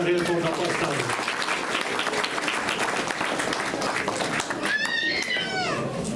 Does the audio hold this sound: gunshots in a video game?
no